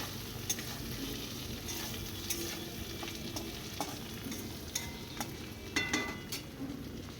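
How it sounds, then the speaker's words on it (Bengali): Turmeric, chilli powder and slit green chillies sizzle steadily in hot oil in a village kitchen as a spoon scrapes and stirs the pan, with sharp clicks of utensil on metal over the continuous frying hiss. "দেওয়ার পর একটু ভালো করে কষিয়ে নিচ্ছি"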